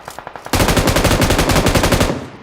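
In PUBG Mobile, a few scattered shots lead into a loud, sustained automatic burst, the rapid cracks evenly spaced and close, tapering off at the end.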